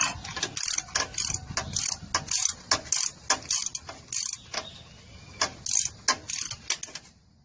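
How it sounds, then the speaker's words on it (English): A ratchet on a short extension with a 14mm socket turning the bottom starter bolt of a Nissan Frontier, giving repeated close bursts of sharp clicking in an uneven rhythm, with no talk. "we're going to use our short extension with a 14mm socket. Just want to fit it onto the bottom bolt, making sure the ratchet clear the cross member support"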